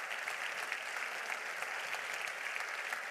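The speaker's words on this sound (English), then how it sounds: "could you give an applause to those people who support our work?" Steady, dense applause from a conference audience at a science session, continuous and even throughout with no talk over it.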